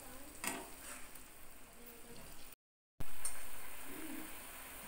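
Eggs and whole green chillies frying in a pan for Bengali dim posto, a steady close sizzle with a brief break, with no one talking.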